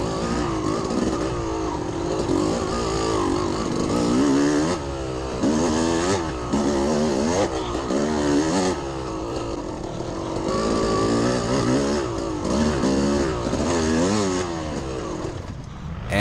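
A dirt bike engine in a harescramble race with a Rekluse clutch, droning and revving steadily and loudly throughout, close by, while the rider's own engine stalls.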